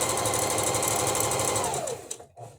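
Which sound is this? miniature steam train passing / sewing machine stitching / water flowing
sewing machine stitching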